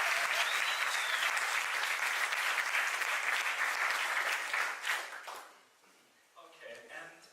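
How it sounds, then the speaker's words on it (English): Audience applause at a nomad community talk: dense, steady clapping from a crowd that holds strong for about five seconds, then thins out and fades to scattered claps. "let's just clap our hands for that."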